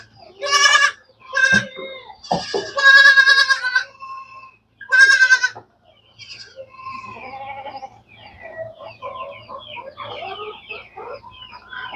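Several loud bleats from native goats in quick succession, followed by chickens clucking and calling over a low farmyard hum.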